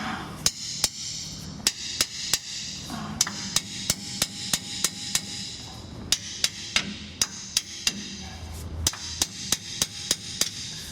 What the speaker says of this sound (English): Just spin it back in and beat our impact socket back off.